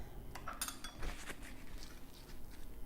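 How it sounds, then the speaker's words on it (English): Corn salsa stirred with a metal utensil in a bowl, faint clinks and scrapes clustered in a brief burst, then a soft continuous rustle. "now you're just going to mix all that together"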